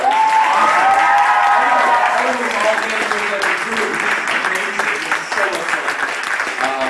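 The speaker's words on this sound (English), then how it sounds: "I'd like to get a quick round of applause for Amir." A comedy club audience in Amherst claps and cheers loudly for a round of applause. Sustained crowd clapping runs throughout, with a few whoops and a voice heard briefly at the start.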